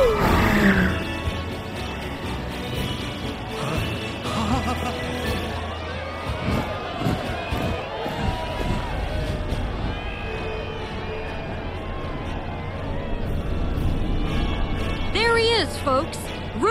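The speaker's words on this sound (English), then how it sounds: "Can you even hear me over this crowd?" A loud, dense parade crowd in Final Fantasy VII Rebirth roars and cheers continuously, with animal-like growls and bursts rising above the din; no clear speech stands out.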